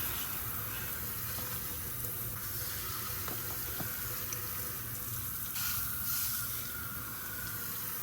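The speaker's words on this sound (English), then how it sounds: "So I'm just gonna spray it down with the shower setting" A garden hose on a shower setting sprays water onto tires in a continuous close hiss with a steady wash, faint tapping and splatter under it, and no voices.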